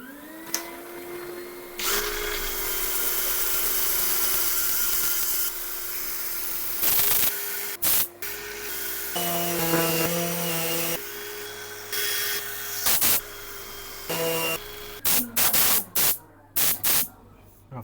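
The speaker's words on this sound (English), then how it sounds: "I'm going to set up for sanding" Wood turning on a lathe is sanded, giving a steady hissing whir that runs for several seconds, then breaks into short bursts with pauses between them, close and fairly quiet.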